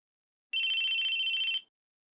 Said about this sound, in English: Our conversation was cut off by the sudden sound of a phone.